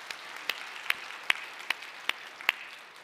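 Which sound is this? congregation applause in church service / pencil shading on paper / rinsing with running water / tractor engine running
congregation applause in church service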